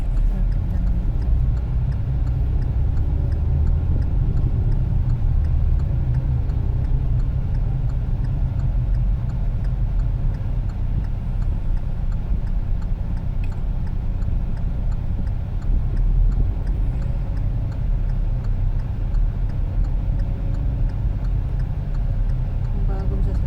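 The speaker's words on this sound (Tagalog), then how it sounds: "Traffic. Traffic talaga ito." Steady low rumble of road traffic with cars in heavy congestion on Abdulaziz, loud and continuous with a faint ticking over it and no clear speech.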